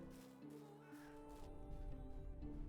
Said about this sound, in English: Thought I heard me a crow.